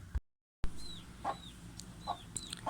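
Short soft clucks from a chick, a few spaced calls over quiet outdoor background with faint chirps.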